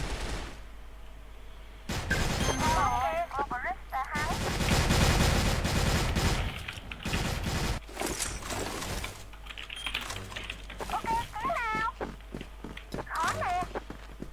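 Gunfire rattles through a video game match in bursts and sustained fusillades, mixed with rapid keyboard clicking and footsteps, while a player talks excitedly over it.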